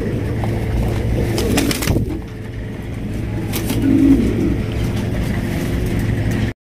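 Lahori pigeons cooing close by, a steady run of low, throaty coos with a few brief higher bird calls near the start, with no talk.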